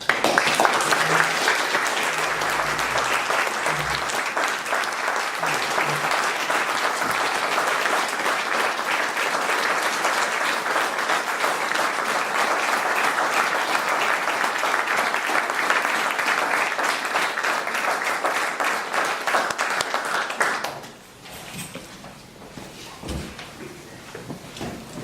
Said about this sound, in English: I will ask for everyone to recognize Sheriff Kelsey with a round of applause